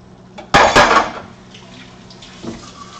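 Tomato salsa base pours into a chili pot in one loud, splashing burst lasting about half a second, followed by faint drips and a small second slosh.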